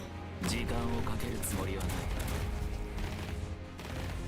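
Gunfire in the video game Arknights: a sustained, loud volley of rapid shots and impacts crowding together for several seconds, with game sounds layered over it and a short lull near the end.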